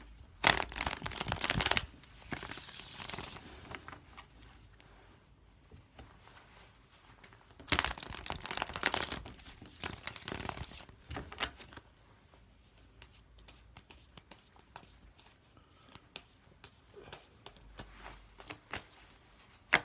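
Tarot cards are shuffled and handled up close in two riffling bursts, followed by quieter sliding and flicking of the deck with no speech.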